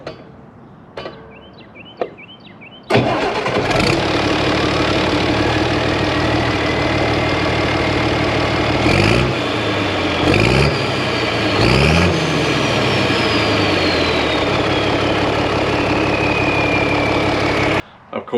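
A diesel engine fitted with an Ambac 100 injection pump, warm after a short rest, gives a few brief starter cranks before catching and settling into a loud, steady idle with occasional revs, heard up close and alone.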